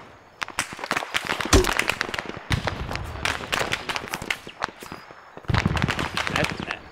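Rapid gunfire in the military shooter ArmA, sharp cracks in quick irregular bursts, loud and close, with short gaps between volleys and a little talk mixed in.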